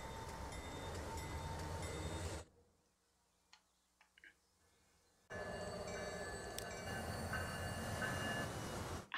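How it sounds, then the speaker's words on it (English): A freight train rolls through in the rail management game Transport Fever 2, a steady broadband rumble with clicking wheel ticks that cuts out for a few seconds of near silence, then returns just as loud. "a freight train that goes down this way."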